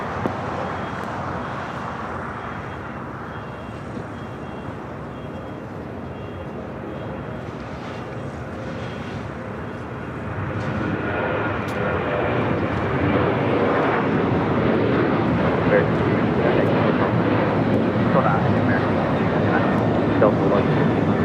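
Airliner landing on runway 25 left at LAX, a steady broadband engine roar that swells louder midway and holds, with tower radio chatter underneath.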